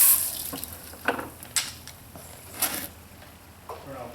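Water rinsing off wood deck surfaces during a wood restoration job, heard as a low wash with irregular splashy bursts and spritzes spaced through the few seconds, moderately close.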